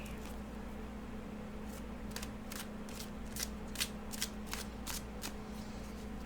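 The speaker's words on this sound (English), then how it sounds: "Give it a couple extra shuffles since I know I haven't worked with this deck a lot." Cards being shuffled repeatedly, a string of crisp riffling bursts over a steady low hum, fairly quiet and close, from a deck of oracle cards.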